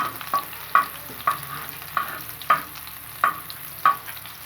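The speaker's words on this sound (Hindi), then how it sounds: "लहसुन और अदरक मैंने दोनों डाल दिए हैं। इनको भी हल्का सा भूनेंगे" Garlic and ginger frying alongside liver on a hot tawa, with a spatula scraping and stirring in regular strokes about twice a second over a soft steady sizzle, close and clear with no talking.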